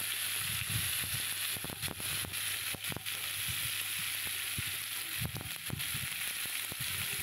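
Mango pieces with turmeric frying in a hot pan, a soft continuous sizzle broken by scraping stirring strokes in two bursts, close and fairly quiet with no voices.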